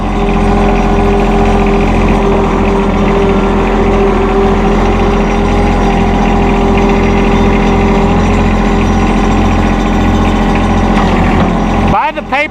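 A 2016 John Deere 2025R compact tractor with a 24.2 hp engine and manual throttle runs at steady idle, a loud, close, even drone throughout with a brief shift near the end.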